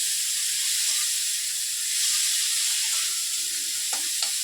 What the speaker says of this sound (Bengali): পেঁয়াজটা একটু ভাজা হলে